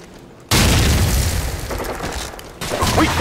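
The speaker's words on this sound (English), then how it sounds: "Grenade!" A grenade detonates in Call of Duty 4 with a sudden loud boom, followed by a sustained rumbling roar and then a second burst of blast noise near the end.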